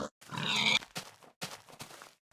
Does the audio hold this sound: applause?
no